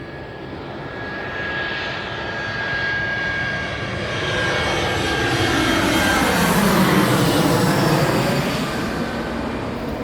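An airliner comes in to land at Don Mueang airport in Bangkok, a loud roaring jet engine that swells and sweeps in pitch as it passes overhead, with no talk.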